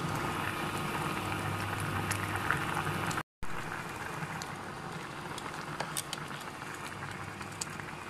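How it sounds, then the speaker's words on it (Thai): A pot of mushroom curry made with honey mushrooms and plenty of water bubbles on the stove, giving a steady close simmering patter that continues throughout, broken by a brief silent gap near the middle. "ฟังเสียงฟูดพี่น้อง"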